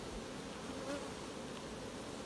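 Honey bees buzz steadily at an open hive during queen-rearing work, a continuous close insect drone with no voices.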